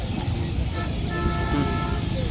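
A bus passes on a road near the Padma River by the Hardinge Bridge at Pakshi and sounds its horn in a couple of steady tones over traffic rumble, while people talk close by.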